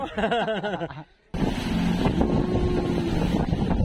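A boat's motor drones steadily over rushing seawater in the Bahamas and wind buffeting the microphone, after a brief burst of voice-like sound at the start.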